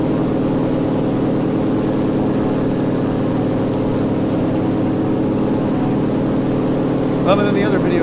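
A propeller airplane engine in the video game Enlisted drones loudly and steadily, a continuous close hum that holds its pitch for the whole stretch.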